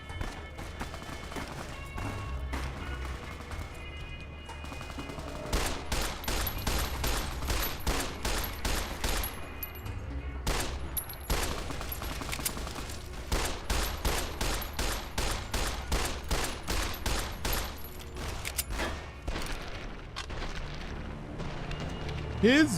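An enemy's gun fires in Fallout: New Vegas, long rapid volleys of close, loud shots that come in clustered bursts with brief pauses between them, over a low background rumble.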